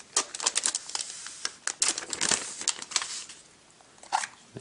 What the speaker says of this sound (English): on the bottom we should have a little tab here to help us peel this plastic envelope off